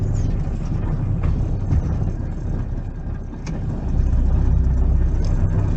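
A Tata BS6 vehicle's engine runs as it pulls forward, a steady close rumble that grows louder and fuller partway through, with no talking.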